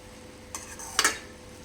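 Semiya upma being stirred lightly in a pan, two short scraping swishes of a spoon through the vermicelli with a faint sizzle between them.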